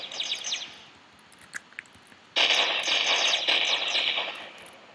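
Rapid bursts of gunfire from an overpowered gun in the Roblox revolver fighting game: a faint rattle at first, then a sudden loud, sustained volley of shots that continues steadily to the end.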